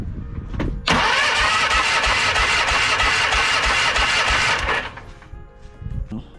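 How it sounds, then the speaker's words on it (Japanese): Starter cranks the engine of an amphibious vehicle under restoration, throttle held wide open, a loud steady whirring churn lasting about four seconds before stopping abruptly, with a faint voice briefly around it. "スロットルを全開で固定してセルを回していきます。"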